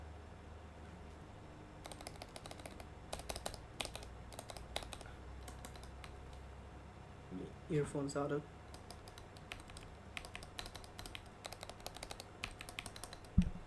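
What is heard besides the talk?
typing on a serviced keyboard with keycaps reinstalled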